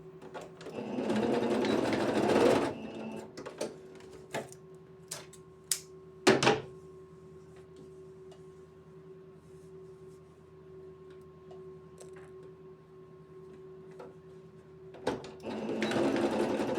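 A sewing machine runs a backstitch on fabric for a peasant blouse, whirring steadily at the start, going quiet apart from a few clicks and knocks, then whirring again at the end, close and alone with no voices.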